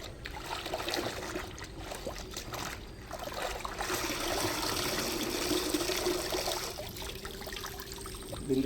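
A saree is dipped and swished in a bucket of cleaning solution to lift cooking-oil stains, producing continuous close sloshing and trickling water with small splashes throughout.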